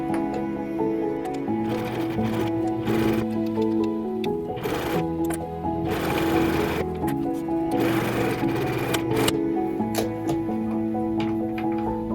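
A sewing machine stitching steadily through a thick vintage kimono obi, its fast, close, continuous mechanical hum running throughout under background music.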